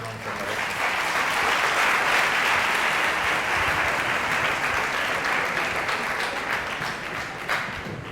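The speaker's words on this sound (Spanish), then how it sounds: "Pido un aplauso para Luis." A lecture audience at a criminology forum applauds a speaker being introduced, steady dense clapping that holds loud and even for about eight seconds in a hall.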